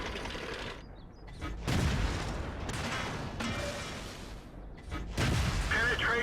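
Tank cannon fire in a tank video game, booming blasts and broadband explosive bursts over a dense mechanical battle rumble, with a louder hit near the end.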